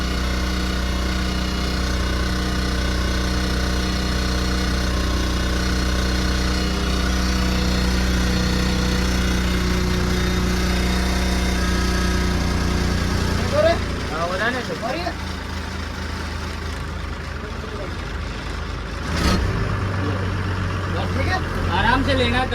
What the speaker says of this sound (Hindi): इंजन है, वाइब्रेट कर रहा है, खड़ी खड़ी का वाइब्रेट कर रहा है।